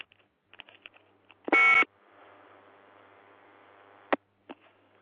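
During a phone call with a faulty headset, a loud electronic telephone beep sounds, followed by faint line hiss and short clicks, with a few quiet sounds before it.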